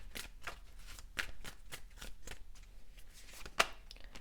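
Tarot cards shuffled and drawn during a reading, a steady run of soft riffling flicks with one sharper snap near the end, close and alone without talk.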